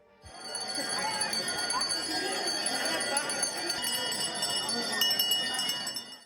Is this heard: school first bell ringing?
yes